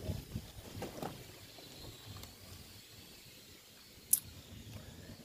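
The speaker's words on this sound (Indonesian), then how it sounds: "Anginnya kencang di sini." Strong wind gusts buffet the microphone outdoors in a blacksmith village in southern Jember, giving a low, uneven rumble with a few sharp thumps. A faint high metallic tick comes through near the end.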